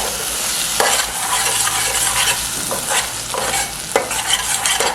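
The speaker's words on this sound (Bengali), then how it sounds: "ফ্লেমটাকে লোতেই রেখে এবার এটাকে কষাতে হবে" A spice paste cooks down over a low flame, giving a continuous close hiss and sizzle broken by repeated scraping strokes of a spatula stirring it around the pan, with nobody speaking.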